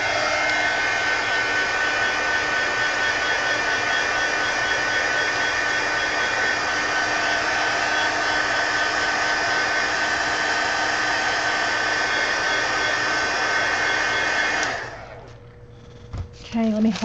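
A hair dryer blows steadily and loudly at close range, drying a gouache painting, then cuts off sharply near the end, leaving near-silence and a few faint handling sounds.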